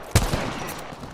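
Gunfire in the battle royale video game Apex Legends: one sharp, loud shot near the start, then a softer second report and a fading tail, with no other sounds.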